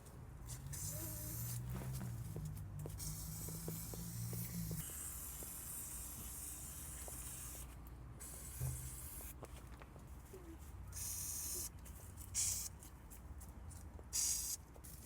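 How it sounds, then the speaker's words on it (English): Penetrating oil is sprayed onto rusty exhaust bolts on a 1999 Honda CR-V, producing long, steady aerosol hisses broken by short pauses and a few brief bursts. The spray sounds close and continuous, with no voices. "I'm gonna start with penetrating oil."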